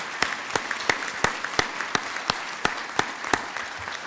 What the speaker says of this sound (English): so just give him another round of applause